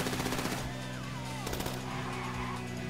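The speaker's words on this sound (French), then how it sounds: "Ah, par contre, je prends des balles." Rapid gunfire in GTA V as the player takes hits during a heist, dense bursts of shots continuing throughout with game sound effects mixed in.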